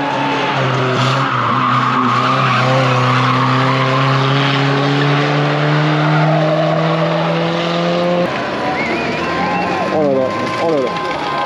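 A Renault Twingo rally car skids at a destruction-derby style event, a loud sustained engine tone with sliding tires that rises and holds for several seconds before breaking off, with a quick burst of squealing near the end; voices are heard in the background.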